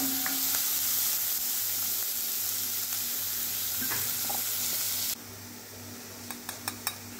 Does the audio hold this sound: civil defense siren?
no